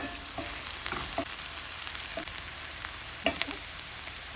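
Small shallots fry in hot oil with garlic and ginger for a Kerala sardine curry, a dense steady sizzle close by, broken by scattered spoon scrapes and pops.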